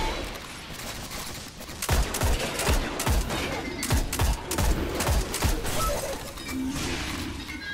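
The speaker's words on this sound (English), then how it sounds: "Trying to get precision shots here." Gunfire in Destiny cracks out in a rapid series of sharp, close shots starting about two seconds in. Roughly a dozen loud reports fire in an uneven rhythm over a busy background of game noise.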